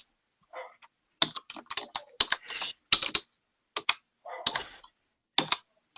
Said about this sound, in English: Let's see if I can get my typing here right.